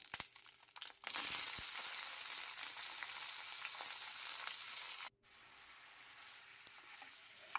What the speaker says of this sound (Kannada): ಟೊಮೊಟೊ ಎಣ್ಣೆಯಲ್ಲಿ ಫ್ರೈ ಮಾಡ್ಕೋಬೇಕು